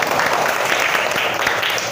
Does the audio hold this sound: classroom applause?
yes